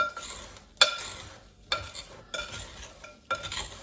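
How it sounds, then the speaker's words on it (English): A spoon stirs sugar into chopped rhubarb and strawberries in a bowl, giving four short scraping, clattering strokes separated by quiet pauses, close and fairly soft. "I'm going to give it a stir and get that all incorporated in there."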